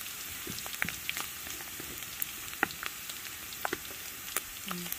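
Pork frying in rendered pork belly oil, a steady faint sizzle with scattered sharp pops and crackles spread irregularly throughout, no voices present.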